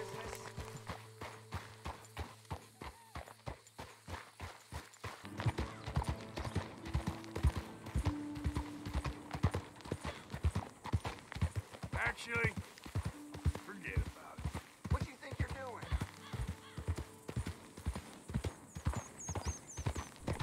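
A horse in Red Dead Redemption 2 runs with quick, regular hoofbeats that pick up pace after a few seconds, close and prominent, with neighs, snorts and in-game music layered in.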